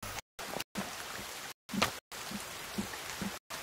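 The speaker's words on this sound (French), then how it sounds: "il pleut toujours autant" Rain falls steadily in The Forest video game, a soft hissing patter with scattered drop hits, repeatedly cut by brief gaps of silence.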